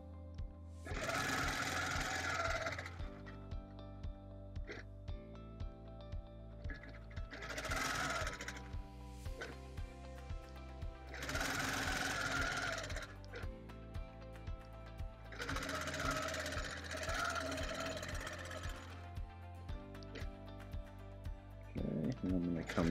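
A sewing machine runs along a seam of a Celtic Wedding Ring quilt in several long, close bursts, its motor whirring over steady background music.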